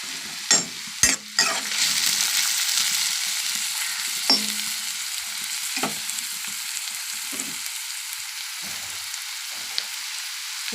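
Onions and green chillies fry in ghee for ghee chicken, a loud steady sizzle up close with a few sharp spatula knocks and scrapes near the start and lighter stirring clicks afterward; no talking.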